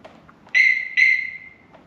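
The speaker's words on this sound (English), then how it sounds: "You guys are gonna hear that little chirp again." A Harley-Davidson V-Rod motorcycle gives a short electronic chirp as it is shut off: two clear, steady high tones, the second trailing away, close and fairly loud against near silence.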